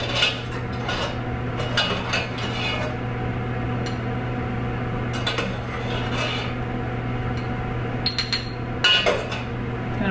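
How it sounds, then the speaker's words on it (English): Metal whisk clinking quickly against a bowl as egg yolk is tempered with warm liquid, a bright repeated rattle over a steady low kitchen hum, close and fairly loud, no voices. "Gonna whisk it up,"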